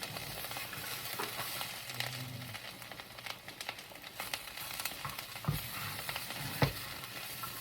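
Vegetables browning in a pan, with a quiet, continuous sizzle and crackle and a couple of soft knocks near the end. No one speaks.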